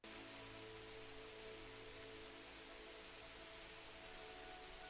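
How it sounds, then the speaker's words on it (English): Steady rain falls without a break, a dense even hiss filling the whole stretch at a constant, fairly loud level with no voices over it. "the rain part sounds louder than it was"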